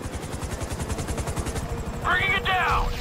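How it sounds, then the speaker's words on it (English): Rotor thump of FIB helicopters in GTA V runs steadily through a raid mission, with gunfire bursts and shouting voices layered over the chopping beat toward the end. "FIB choppers, pick me up!"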